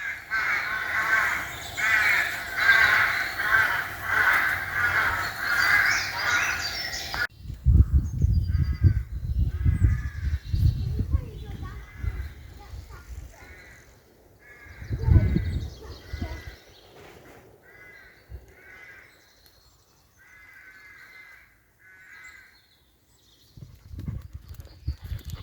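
Birds call outdoors on a spring day at Ravenglass, first a dense chatter of song, then a series of short harsh caws repeating in bursts, with footsteps and movement thumping underneath.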